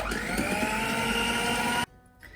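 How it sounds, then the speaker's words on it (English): An electric blender runs steadily on a pistachio kulfi mixture for Malai Kulfi, a loud, continuous whir lasting almost two seconds before cutting off abruptly into near silence. "It really depends on the speed of the blender and everything."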